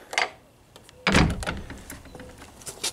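A barn shop door is pushed shut and latched in one loud thunk near the middle, followed by a few fainter clicks and rattles of the lock hardware on a cold day.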